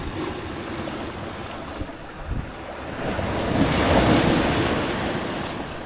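Sea waves rolling and washing in along a shore during a prawn-catching outing, a steady roar swelling louder toward the end, with wind buffeting the microphone and no talking.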